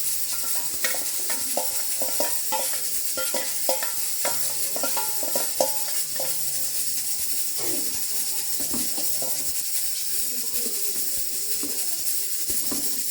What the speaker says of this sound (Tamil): நல்லா வந்து கிளறி விட்டுட்டே இருக்கணும்